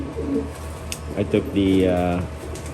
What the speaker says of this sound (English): I moved a bunch of birds in here.